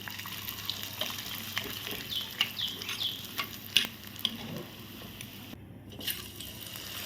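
A fasting snack deep-frying in a pan of oil, a steady bubbling sizzle with frequent spoon clinks and stirring scrapes, close and fairly loud.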